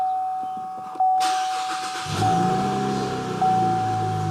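A car engine cranks and catches, then settles into a steady running idle, heard close with a faint tone underneath.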